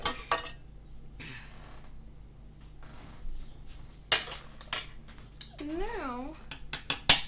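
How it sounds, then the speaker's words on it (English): A frying pan is handled and set down with butter while cooking breakfast before eggs go in, with soft metallic clatter and clinks, quiet and close, between bits of talk. "we're just going to put the pan with a little bit of more butter"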